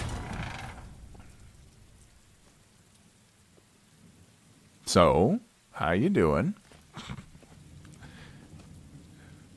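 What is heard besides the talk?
rain in video game Telltale's The Walking Dead: Michonne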